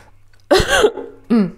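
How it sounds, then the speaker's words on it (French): A short cough, then a brief pause and a second quick cough, close and fairly loud against a quiet background. "La petite toux."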